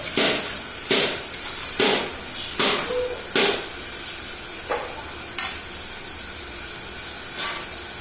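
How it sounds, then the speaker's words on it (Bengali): Meat being sautéed in oil in a pan for kosha, with a steady sizzle and hiss and repeated scraping strokes of stirring, close and fairly loud, with no voices. "দেখুন মাংস কষা চলছে, হালকা তেলও ছেড়ে দিয়েছে"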